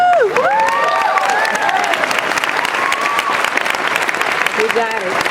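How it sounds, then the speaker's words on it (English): The audience at the Dwight-Englewood School 2010 graduation breaks into loud, continuous applause, with cheers and shouting voices rising over the clapping. "I would appreciate a round of applause after everything I say."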